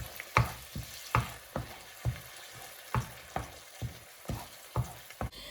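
Food frying in a pan is stirred in a steady rhythm of about a dozen scraping strokes over a continuous low sizzle, close and clear, with no talking.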